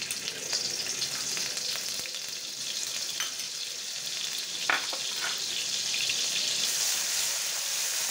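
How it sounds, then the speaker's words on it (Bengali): Garlic paste and dry chili paste masala sizzle steadily in a hot pan for a boal fish curry. A bright, constant frying hiss is broken by a few scraping stirs. No voices are heard. "মশলাটা একটু কষিয়ে নেব।"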